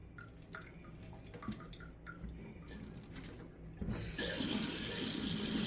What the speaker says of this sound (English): add a little moisture to it because we're doing a moisture test. So I'm at the sink here